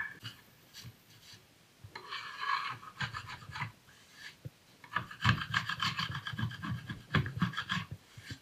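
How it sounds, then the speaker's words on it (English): Rasping and rubbing against wood with clunky handling knocks as clamps are removed from a wooden pedestal table top, an irregular stretch of scraping and shifting work up close. "Let's get the clamps off of this here"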